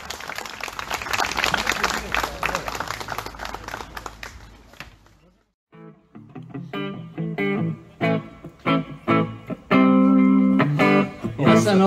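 An audience at an outdoor arts festival on a town square applauds loudly for about five seconds, the clapping dense and sustained before it stops abruptly and loud amplified music follows.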